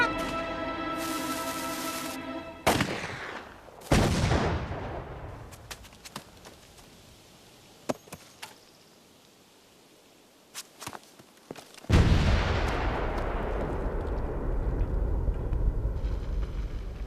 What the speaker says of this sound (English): Kill those making the big gun shoot!